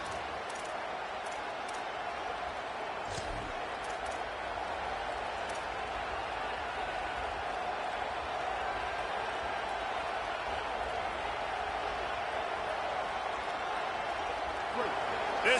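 Steady roar of a large stadium crowd during a game, loud and continuous throughout with a dense wash of voices and faint, scattered shouts.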